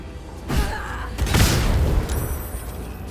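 A smoke powder bomb blowing up in the video game Baldur's Gate 3, a loud burst followed by a rumbling, crackling swell of noise that fades off, with no talk.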